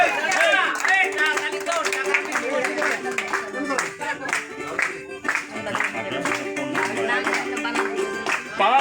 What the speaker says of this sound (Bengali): এই সবাই একটু হাতে তালি দিলে